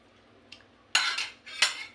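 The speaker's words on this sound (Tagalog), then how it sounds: "Haluin ng haluin." Metal spoon scraping and clinking inside a pot while pork teriyaki is stirred, a faint tap followed by two louder, brief scraping strokes close by.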